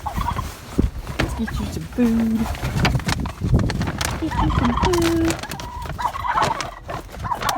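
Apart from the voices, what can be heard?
turkeys gobbling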